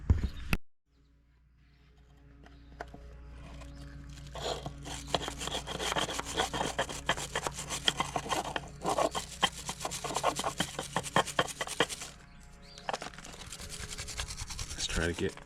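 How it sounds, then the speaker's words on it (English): Corrosion being scrubbed off a fitting surface on an Evinrude 88SPL outboard motor, close rough rasping strokes in quick repeated bursts, fairly quiet overall. "Let's try to get as much of this corrosion off of here as you can."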